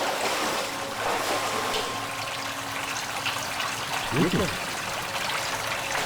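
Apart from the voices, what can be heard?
gutter water flowing in a tunnel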